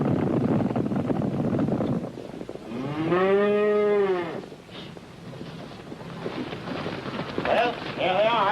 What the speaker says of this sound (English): I only count 9 head, Lim.